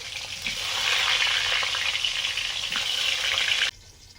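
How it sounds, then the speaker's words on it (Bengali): Potatoes fry in hot oil for khichdi, with a loud, steady close sizzle and faint stirring that runs for several seconds before stopping abruptly. "খিচুড়ির আলুটা আগে ভাজছি।"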